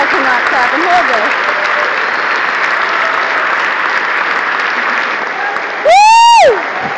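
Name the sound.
rally crowd clapping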